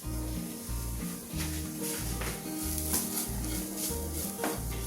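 Beef puttu mixture of ground meat and spices is stirred in a hot pan, a steady sizzle under repeated rhythmic scraping strokes of the spoon, close and continuous.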